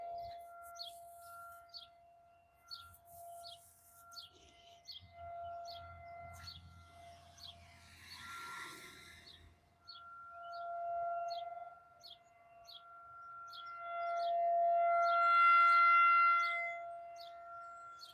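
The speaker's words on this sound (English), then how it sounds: "Must be a new siren over there. I've never heard that one before." A tornado warning siren wails in long rising and falling tones from a distance, growing louder near the end, while birds chirp repeatedly in the foreground.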